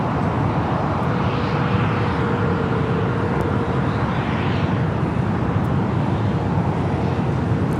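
Boeing 777-300ER cargo jet in China Southern colors at Los Angeles LAX, a steady broadband engine roar holding loud for the whole stretch, with no voices over it.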